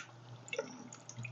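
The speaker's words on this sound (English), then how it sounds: "It will splash because we did not drain the juice off that sauerkraut." Sauerkraut with its undrained juice poured into a casserole dish, a faint, brief liquid splash and a few drips, close by and quiet.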